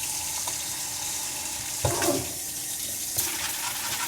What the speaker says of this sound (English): we're gonna rinse all that dirt off of them